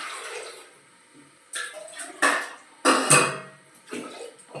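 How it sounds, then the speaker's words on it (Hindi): Water poured into a pressure cooker in a home kitchen, heard as a few short splashing bursts separated by brief pauses, fairly close and with no talking. "इधर कुकर में मैंने ले लिया है पानी"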